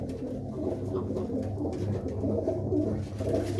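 Pigeons coo steadily at a Punjabi fair where racing pigeons are shown, a low continuous murmur of several birds close by with no one talking over it.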